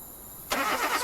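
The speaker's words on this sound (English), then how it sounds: "Start the car." A car engine starts abruptly partway through, a loud broadband burst that settles into a steady running engine, following a quiet stretch with no talking.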